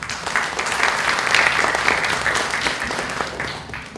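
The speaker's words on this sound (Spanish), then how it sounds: "Recibimos con un aplauso a Sergio Ramírez." A university hall audience at a literary biennial applauds to welcome the writer Sergio Ramírez, with close, lively clapping that swells and stays full for several seconds and no talk.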